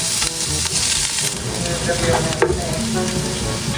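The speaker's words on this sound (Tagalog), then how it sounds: "Igigisa ko na po muna ito pong ating mga ricado." Aromatics sautéing in hot oil give off a loud, dense, continuous sizzle, with soft stirring scrapes mixed in, close to the pan and with no voices.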